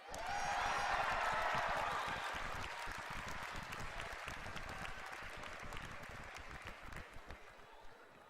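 Loud audience cheering and applause for a World of Warcraft: Warlords of Draenor reveal, swelling at the start and then slowly thinning into scattered clapping.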